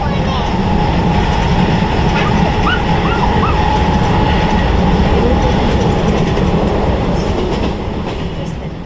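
A Mumbai local train ride heard from inside the carriage, a loud, steady rumble of wheels and rattling cars that continues throughout, with faint voices in the background.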